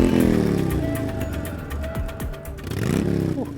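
A wood planer surfacing a jointed board in a home woodworking shop: a loud motor whine whose pitch sags and recovers as the board feeds through, running alone without talk.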